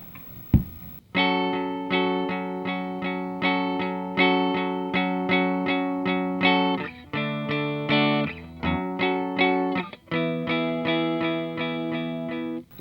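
Distorted electric guitar with chorus and effects playing a riff, steady rhythmic chords with repeated attacks, close and loud, with no talking.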